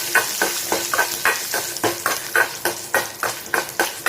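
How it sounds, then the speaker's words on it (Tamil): Chana dal, urad dal and dried red chillies fry in a pan with a steady sizzle, while a utensil stirs and scrapes in a brisk, regular rhythm, close and fairly loud. "கடலப்பருப்பு, உளுத்தம்பருப்பு நல்லா வறுத்துக்கோங்க."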